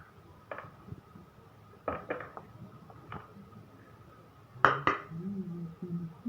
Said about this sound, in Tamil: இப்போ நம்ம மிக்ஸி ஜாரில் போட்டு அரைக்கிறதுக்காக தேங்காய் ஸ்லைஸ் பண்ணுறோம்